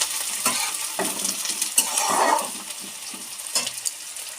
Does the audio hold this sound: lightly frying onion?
yes